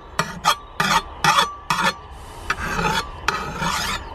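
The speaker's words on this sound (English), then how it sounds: "so we get the file and we just take those off" Hand file rasping burrs off a lawn mower blade, about six short separate strokes followed by a longer continuous scrape, close and loud with no talk.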